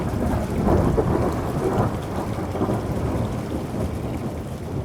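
Thunder rumbles low and long through a mountain thunderstorm near Piz Badile, under steady rain pattering on surfaces, with no voices.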